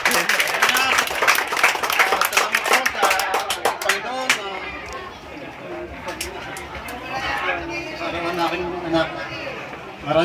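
Guests at a seventh birthday party applaud, with quick scattered clapping for several seconds that gives way to lively chatter and voices across the room.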